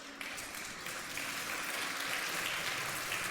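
A church congregation applauds in a steady, dense wash of clapping that swells slightly and holds, heard from some distance in a reverberant hall.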